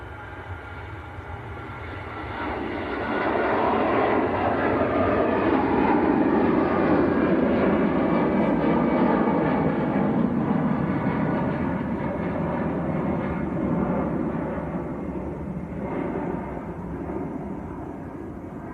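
EasyJet Airbus A320, twelve years old, departing Manchester Airport for Zurich; a broad jet engine rumble swells after a couple of seconds and stays strong and even, then eases slightly toward the end, with no talk.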